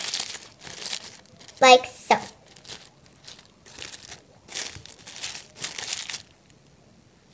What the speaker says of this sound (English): So first crunch up the flower and kind of like play with it, just crumple it around, but not too wild, otherwise it will break off.